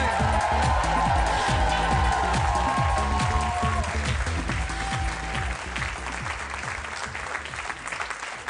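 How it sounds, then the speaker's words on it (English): Sustained studio audience applause at a late-night talk show, dense clapping from a large crowd that stays strong before slowly thinning and fading. "Thanks for that extended applause to get us past a little bit there."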